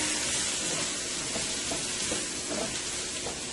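Scallion, celery and seasoning sizzle steadily in a frying pan, a loud, continuous broadband hiss with faint stirring scrapes, no voices.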